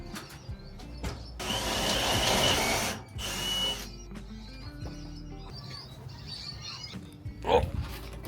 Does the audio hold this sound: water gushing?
no